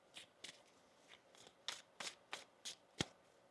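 Tarot cards shuffled by hand nearby, a quiet run of about eight crisp riffling bursts at an uneven pace, each one brief and papery, with no talking.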